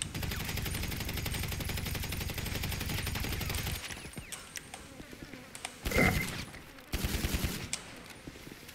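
Gunfire from a pistol in the video game GTA V: a dense, rapid burst of shots for about four seconds, then quieter scattered sounds and two short loud bursts later, with no talking.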